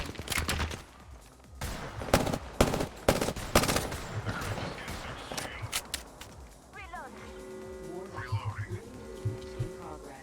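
Rapid automatic gunfire from Apex Legends pubs and ranked play, loud bursts and fusillades in the first half, then lighter shots over game effects and tonal interface sounds.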